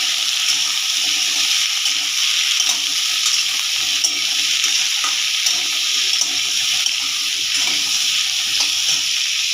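Continuous close sizzling of vegetables frying in a pan for a rohu fish curry, broken by small scraping stirs, with a steady hiss throughout and no voices.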